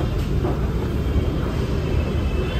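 Steady rumble of a metro train in motion, a continuous rolling roar with faint rattling, loud and close as if heard from inside a carriage.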